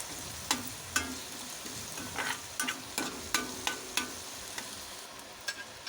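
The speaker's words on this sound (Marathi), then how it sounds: "मीठ टाकायचं, चांगलं परत हलवून घ्यायचं।" Onions with turmeric and salt are stirred in a frying pan: a soft constant sizzle is broken by repeated sharp scrapes and clinks of a utensil against the pan at an irregular pace, close by and without speech.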